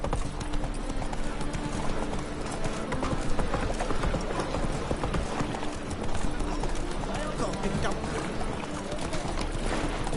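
Roach the horse gallops in a PS4 game with a quick, steady clip-clop of hooves running under a busy game soundtrack, and a voice speaks over it.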